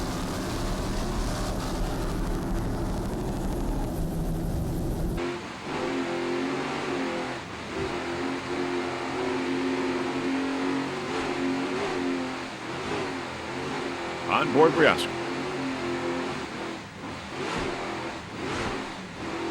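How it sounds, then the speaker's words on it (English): Twin 750-horsepower Fluke inboard engines powering an offshore racing powerboat, a sustained loud roar with rising and falling revs and a brief higher whine mid-run, with a voice talking early on. "Those Fluke inboards. Two 750 horsepower inboards."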